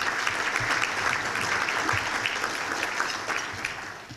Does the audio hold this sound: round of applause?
yes